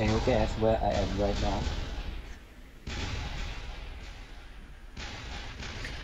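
Booming gunfire and blasts of a war-zone demo recording, heavy thumps and crashes with sharp onsets at irregular intervals, partly under a voice near the start.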